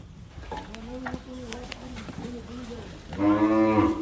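Several cows at a cow shelter in the early morning moo in drawn-out calls, one after another, ending in a louder, close moo, with faint background sounds between calls.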